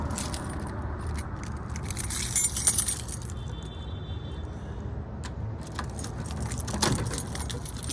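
Keys jangle and clink in short metallic bursts outdoors at a renovation site, fairly quiet, over a steady low rumble of passing road traffic.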